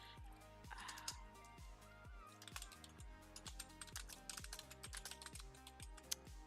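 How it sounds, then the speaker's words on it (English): Steady typing on a computer keyboard, close and fairly quiet, with rapid irregular key clicks running throughout over a looping synth background beat. "Okay, just typing here, 1 minute."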